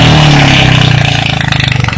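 A motorcycle exhaust revving close by, loud and deep, the bassy engine note pulsing rapidly and steadily as it holds and slightly rises over about two seconds.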